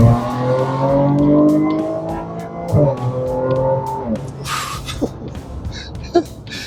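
A supercharged Audi S4 revs hard, its engine and exhaust note climbing and falling in strong harmonic sweeps before settling into a lower, rougher idle with a few short sharp noises.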